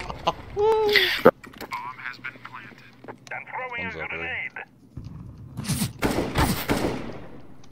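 Gunfire in a tactical shooter video game, with sharp bursts of shots and rapid clicking clatter scattered across the clip, mixed with game effects and players talking over it.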